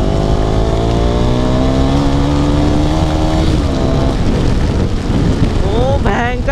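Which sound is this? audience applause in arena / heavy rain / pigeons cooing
heavy rain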